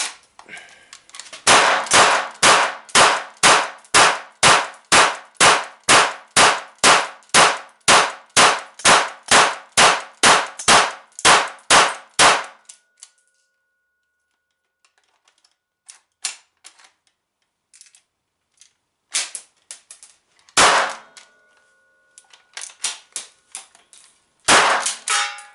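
A GSG MP 40 blank gun in 9mm PAK fires a full magazine in a fast, evenly spaced string of loud, sharp cracks, followed by silence and a few scattered later shots and clicks.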